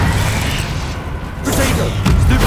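Explosive spell blasts from the Hogwarts Legacy video game, played on PS5, booming bursts that punch through a dense, loud game mix with a clear blast near the end; voices are mixed in.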